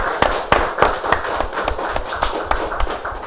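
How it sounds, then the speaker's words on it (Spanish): Audience applauds a performer at a Peruvian music television show, with irregular sharp claps and thumps over a busy room sound. "Aplausos para el maestro Campos"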